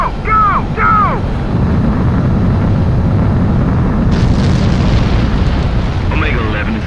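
A fighter jet takes off in the video game Ace Combat 7, its engine roaring in a loud, steady wall of thrust that swells stronger partway through, with brief radio-style voice snippets layered over it.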